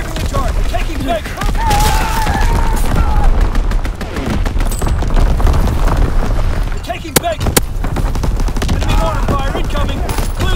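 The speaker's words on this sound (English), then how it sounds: "Firing division artillery." Division artillery strike in a shooter game, a rolling barrage of heavy impacts and rapid gunfire crackle, loud and near, with voiced game callouts running over it.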